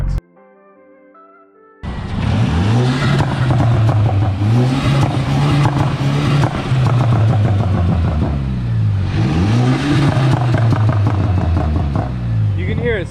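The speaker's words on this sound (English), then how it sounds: "It's way more noticeable, the difference with the turbo noise coming from the intake." A Stage 2 Mercedes CLA with a bolted-on carbon fiber intake revs and accelerates loudly after a brief quiet start, its close engine drone rising in repeated sweeps with audible turbo whoosh.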